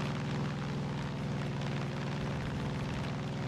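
Airplane engine droning steadily through flight in Far Cry 5, a loud, continuous low propeller hum that holds even for the whole stretch with no talk over it.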